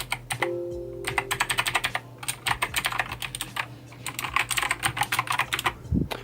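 Fast, clicky typing on a mechanical keyboard, close up, in steady bursts with brief pauses between.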